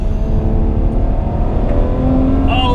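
Ferrari 812 Superfast V12 with a twin-clutch gearbox on the Fiorano track, its engine roaring loud and steady from inside the car, pitch climbing as it pulls hard, with a sharp shift near the end.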